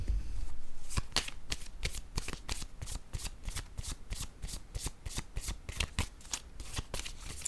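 Tarot cards being shuffled to draw another card: a rapid run of crisp, papery riffles and slaps repeating about twice a second, close and steady, with no voices.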